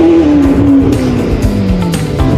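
A hurricane flood-damaged Ferrari rolls up and down a driveway on a short test drive, its engine revving loudly up close with a falling whine as it eases off, throttle blips and clunks mixed in.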